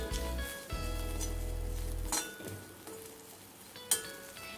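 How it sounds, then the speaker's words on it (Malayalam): Grated coconut roasting in a pan for pappadam thoran, stirred with a utensil that gives occasional clinks and scrapes over a low hum and soft sizzling, close and fairly quiet. "ഇതൊന്ന് നല്ലൊരു റോസ്റ്റ് ആവുന്നത് വരെ നമ്മളിതിങ്ങനെ ഇളക്കിക്കൊണ്ടിരിക്കുക, അല്ലെങ്കിൽ കരിഞ്ഞു പോവും."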